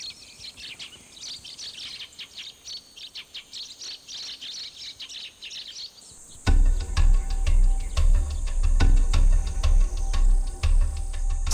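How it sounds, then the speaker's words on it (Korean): Sparrows chirp in quick, overlapping bursts at Samneung on Gyeongju's Namsan, first lighter and thinner, then a denser, louder chorus of tweets over a low rumble. "삼릉은 참새들이 종종 모래 목욕을 위해 찾아오는 곳이죠."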